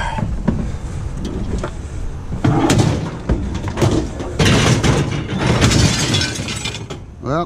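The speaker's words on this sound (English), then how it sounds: "Well, there goes the glass." Glass shatters and crunches as curbside junk is pulled apart, several loud breaking bursts mixed with thumps and clatter, close by and with no talk.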